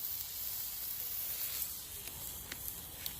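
Pre-seasoned Italian chicken breasts sear over medium heat on a Blackstone 28-inch griddle, giving a steady, even sizzle and hiss with a few faint pops and no voices.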